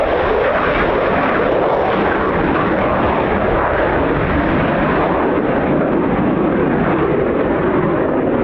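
A Eurofighter Typhoon FGR4 makes a touch and go at RAF Coningsby, its jet engines giving a loud, continuous roar that holds steady and shifts slightly in tone, with no talk.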